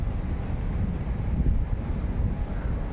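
Steady wind blows outdoors, a loud, continuous low rumble buffeting the microphone with slight surges and no voices.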